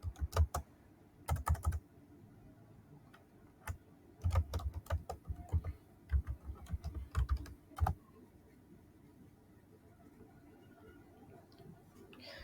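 Typing an npm install command on a computer keyboard, heard as irregular bursts of close key clicks separated by short pauses, with the typing stopping after a few seconds into quiet room tone.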